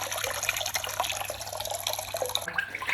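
Water sloshing and dripping as a makeup-removing mitt is dipped and moved around in a basin, close and fairly quiet, with no talking.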